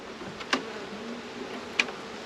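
Agitated honeybees buzz around a hive in a continuous, moderately close drone, with two brief sharp ticks standing out over the hum.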